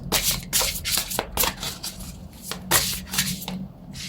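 Oracle cards shuffled by hand, close and loud, several crisp riffling bursts in an uneven rhythm with short pauses between them and no talking.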